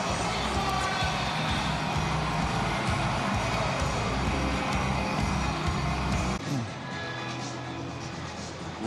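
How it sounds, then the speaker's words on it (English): A college football stadium crowd at Washington vs Rutgers roars as Rutgers makes a goal-line stop, a dense, loud, continuous wall of cheering that eases slightly near the end. "Listen to this crowd."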